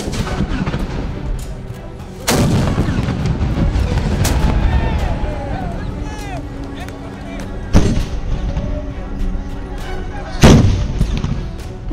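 Ceremonial cannon firing drill at the Mysuru Dasara, with elephants nearby: loud, distant-echoing booms at roughly three-second intervals, each followed by a long rolling reverberation over crowd and outdoor background noise.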